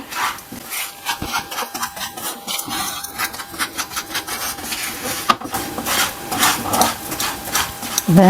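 A spoon scrapes and stirs roasted semolina with sugar in a pan, making continuous gritty rasping and rubbing close by.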